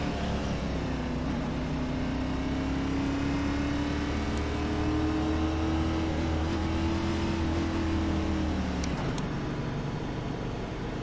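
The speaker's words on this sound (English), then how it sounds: "Whole bunch of NASCAR cars here." NASCAR race car engines in iRacing at the Charlotte Roval, a steady loud engine drone with a rising, wavering pitch, several cars idling and revving close together.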